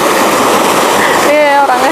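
Swift, rushing river water in a hidden stream at Jatiluwih, a loud steady broadband roar throughout, with a voice briefly audible over it near the end.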